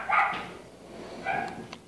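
A dog nearby gives two sharp barks about a second apart, loud and alone without talk over them.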